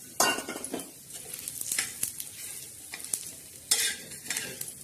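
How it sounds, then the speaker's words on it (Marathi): Grated coconut roasts in a little oil in a pan: a sizzling, crackling fry with repeated scraping and clinking of a metal spoon against the pan, loud and close, no talk. "खोबरं भाजत आहोत."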